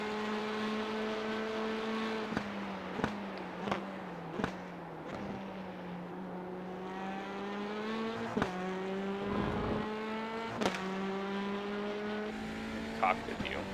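A Hyundai Veloster laps the Hungaroring race circuit, its engine note climbing and dropping through the gears with sharp shift breaks and tire squeal, steady and close, with no talking.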